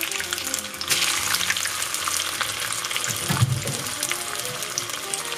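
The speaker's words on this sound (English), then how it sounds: "I'm gonna put some oil in the pan here and just pre-fry my vegan eggs." Vegan eggs fry in oil in a pan with a steady, bright sizzle and crackle throughout, close and fairly loud, with a brief stirring clatter midway.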